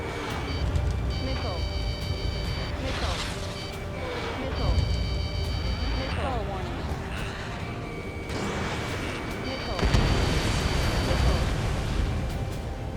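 Missiles whoosh away and explosions rumble in the Ace Combat 7: Skies Unknown video game, several booms and launches recurring amid steady tones, with people talking over them.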